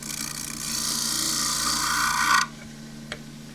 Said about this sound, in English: I'm going to do the rest with shear scraping